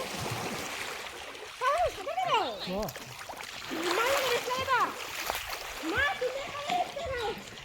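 People splashing in water after playing Holi, with a steady wash of splashes and moving water under excited voices, including children, talking and calling out throughout.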